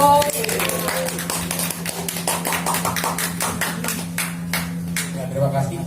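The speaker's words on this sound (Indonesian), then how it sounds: "Tepuk tangan dong." Applause at an exhibition opening, a crowd clapping in quick uneven rhythm that starts loud and slowly thins, with a steady hum underneath and a few voices mixed in.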